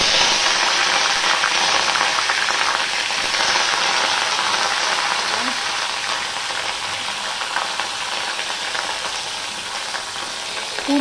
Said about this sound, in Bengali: ফুলকপিতে জল ছিল বলে এইভাবে ছিটলো।